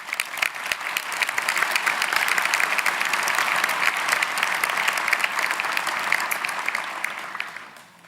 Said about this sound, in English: they truly deserve the greatest applause